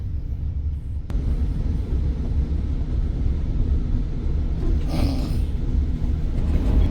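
A train rumbles along at speed, a loud, steady low roar with rattling heard from inside a first-class carriage, unbroken throughout.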